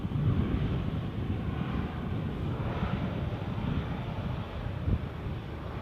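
A Jet2 airliner passes at Edinburgh airport, heard as a steady, loud broadband roar that lasts throughout, mixed with gusty wind buffeting the microphone.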